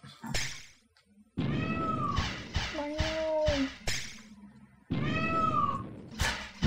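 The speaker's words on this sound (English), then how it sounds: "More like a cat, that one." Synthetic cat meows from a homemade computer game built with The Games Factory sound several times in a row, loud and drawn out, mixed with dull thuds and short clicks.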